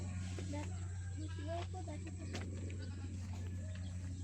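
Goats bleat a few times in short wavering calls, fairly faint against a steady low hum, with some voices nearby.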